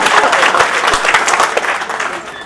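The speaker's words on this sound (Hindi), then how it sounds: "ताली वाली बढ़िया से आनी चाहिए।" Steady applause from an audience at a poetry recital, many hands clapping densely and loudly throughout without a break.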